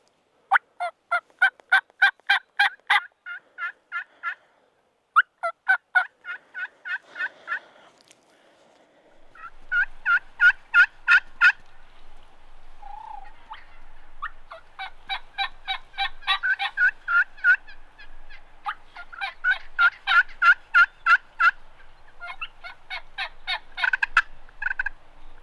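Wild turkeys call in rapid, rhythmic bursts of close, loud yelps and clucks from hens, with a strutting gobbler nearby, the sequences repeating with short pauses across the whole stretch.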